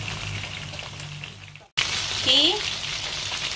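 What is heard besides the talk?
barramundi fish frying in oil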